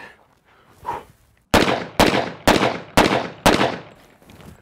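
An AF2011-A1 double-barrel 1911 pistol fires five loud, close gunshots in a fairly even rhythm at the range, each with a sharp crack and a short decaying tail, after a quiet lead-in with slight noise.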